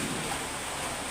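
Heavy rain falling outside in Arunachal, a dense, steady hiss of downpour that stays even and unbroken for the whole short stretch.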